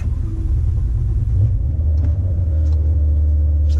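A Maserati Ghibli S GranSport starts up in Monaco, a loud low engine rumble that settles into a steady deep idle close by, with no talk over it.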